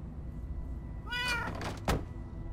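A cat meows in the video game Minecraft: Story Mode, one clear drawn-out meow over a low hum, followed by a dull thunk.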